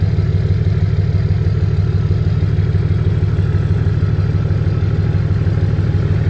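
A rough-running engine in need of a fuel filter idles with a steady low, even throb that holds loud and close for the whole stretch, with no voices over it.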